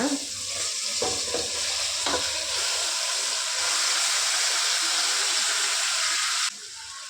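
Meat marinated in curd sizzles and fries in a pan, a loud continuous crackling hiss with a few stirring scrapes early on, cutting out abruptly near the end.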